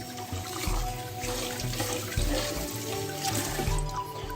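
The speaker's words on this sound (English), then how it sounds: "pour out the nasty water" Starchy, cloudy water from rinsing rice is poured out, making a steady splashing gush into a sink that runs on without pause, close and moderately loud.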